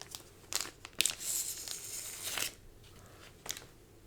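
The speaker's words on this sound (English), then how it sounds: "We will go ahead and open up your cards and show you the" Packaging on a vintage 60-card Pokémon TCG theme deck is opened up close, producing soft crinkling and tearing with a few sharper crackles between quieter pauses.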